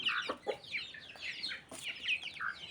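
Country chickens clucking nearby, a run of short, repeated clucks and squawks from several birds in quick succession, fairly faint, with no talking.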